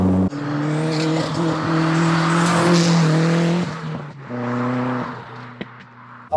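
A 277bhp turbocharged Rover Metro driven hard, its engine note loud and close with strong steady harmonics that rise, drop off around a gear change, then pick up again, with a sharp pop near the end.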